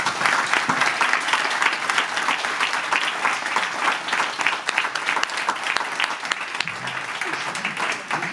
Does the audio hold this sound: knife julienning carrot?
no